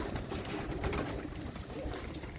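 Soft cooing of a female pigeon runs steadily through the short clip, low and murmuring against a close, continuous background hum.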